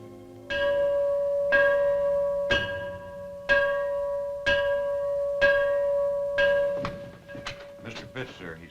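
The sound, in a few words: old bell tolling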